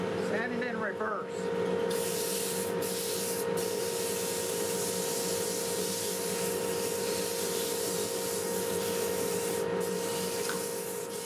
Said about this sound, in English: Sanding in reverse.